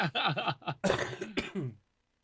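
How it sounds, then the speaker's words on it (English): Several harsh coughs burst out close to the microphone in quick succession, loud and raspy, then fade into silence. "Excuse me, everybody, for coughing in the microphone."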